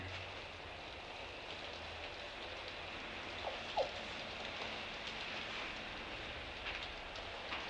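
Rain falling in a steady, soft wash of hiss, faint and distant, with one brief tap midway and no voices.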